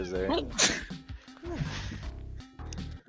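A single sharp sneeze bursts out close by during a multiplayer game session, amid ongoing casual chatter from several people talking over it.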